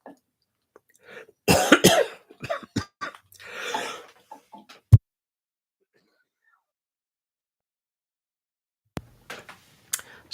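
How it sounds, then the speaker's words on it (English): A person coughs and clears their throat several times in a close, loud cluster, followed by a long silence and a few faint sounds near the end. "I still have a residual cough"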